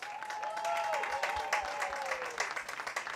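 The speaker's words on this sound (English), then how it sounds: "He might have finished third, but he's won the crowd applause meter." A crowd at the 2023 Congressional Cup Regatta applauds a third-place sailor with sustained clapping, and a sliding whistle rises above the applause.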